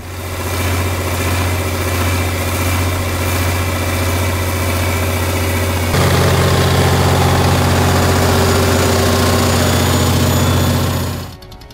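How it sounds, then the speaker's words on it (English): Steady idle of an LS Chalmers six-cylinder engine driving an Onan generator in cold weather around 15°F, a continuous loud low drone with a slight shift in tone midway, then cut off at the end. "The LS Chalmers six-cylinder engine is perfectly connected to the Onan generator, running smoothly even at around 15 degrees Fahrenheit without the need for a heater."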